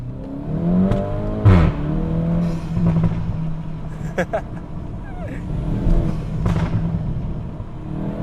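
A VW Golf GTI MK8.5 fitted with a cold air intake on a short test drive, its engine rising and falling through revs in the cabin while people talk over it.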